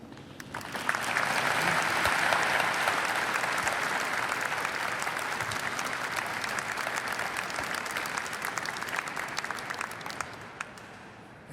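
A cathedral congregation applauds during a Mass, dense reverberant clapping that builds quickly and holds steady for several seconds before thinning out near the end.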